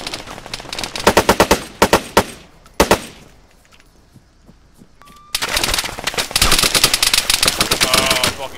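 Automatic gunfire rattles in a shooter video game: sharp bursts early on, a quieter lull, then long sustained rapid fire close up. No voices.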